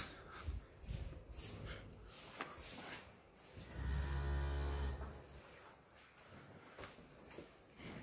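A heavily pregnant cow close to calving lets out a deep, drawn-out moo of about a second, fairly close, with quieter rustling and shuffling around it.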